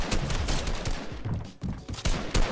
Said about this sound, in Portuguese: Tô tomando tiro do além agora.